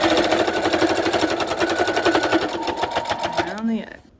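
A sewing machine stitches steadily around the edge of a fabric bowl cozy, a loud close whirring hum that runs continuously, then slows and winds down to a stop at the end.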